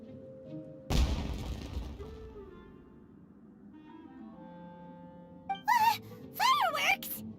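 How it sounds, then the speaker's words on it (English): Fireworks-like explosion in the Genshin Impact video game, a single sudden loud burst that decays over a couple of seconds, followed later by whistling, rising crackles and sparkling pops. "Was that an explosion? It sounded like fireworks."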